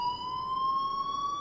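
A school alarm in the video game Life Is Strange rings as a steady, loud electronic tone with slightly rising pitch, sounding continuously and alone.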